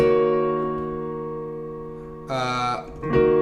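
A piano plays the bridge chords of a song as sustained, ringing harmonic chords, with one fresh, brighter chord struck near the end. It is heard alone and fairly close, with no talking.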